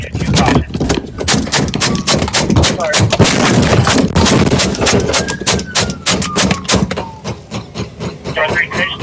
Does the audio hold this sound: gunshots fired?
yes